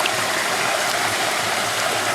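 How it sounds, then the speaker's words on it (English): Water swirled around a gold pan while prospecting makes a steady, close rushing wash with no breaks and no voices. "you kind of make the water in the pan make a"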